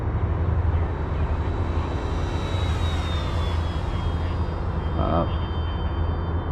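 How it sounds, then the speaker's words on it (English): An FMS 1400mm F4U Corsair RC plane makes a full-throttle pass, its motor a loud, steady whine that swells and then drops in pitch as it goes by, with a brief spoken word over it. "Let's do a full speed pass,"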